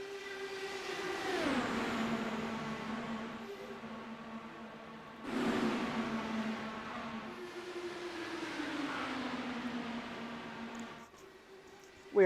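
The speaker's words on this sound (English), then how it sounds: "Let me turn down the engine noise." Race car engines in an IndyCar racing video game at Kansas Speedway drone continuously, with cars sweeping past and their pitch dropping as they go by, the sound easing off near the end.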